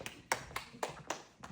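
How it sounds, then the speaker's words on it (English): Six sharp hand claps at a steady, slightly uneven rhythm, fairly close and moderately loud against a quiet room background, with no talking. "Why are you clapping?"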